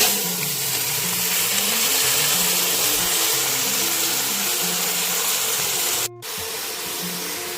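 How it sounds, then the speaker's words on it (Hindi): Mutton frying with onions in a pan, a loud continuous sizzling hiss close up, broken by a brief drop near the end before resuming. "दस मिनट के लिए इसे प्याज के साथ फ्राई कर लें।"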